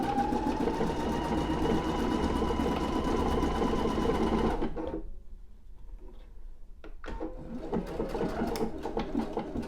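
A Pfaff Creative Icon 2 sewing machine stitching a decorative ribbon stitch, humming steadily with a fine rapid ticking for several seconds, then pausing briefly before quieter clicks and a renewed whir, with no talking.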